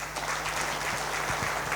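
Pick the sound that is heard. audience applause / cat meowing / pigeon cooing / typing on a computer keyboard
audience applause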